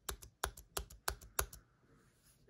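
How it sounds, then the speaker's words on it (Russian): Enter key on a Logitech MX Keys keyboard pressed five times in a steady rhythm, each a crisp, close, quiet click, followed by soft room silence. "Хочу отдельное внимание обратить на звук Enter."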